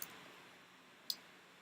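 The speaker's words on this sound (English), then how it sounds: "You're gonna hear the tapping of the keys." Two faint, sharp clicks about a second apart, like keyboard keys being tapped, over quiet background hiss.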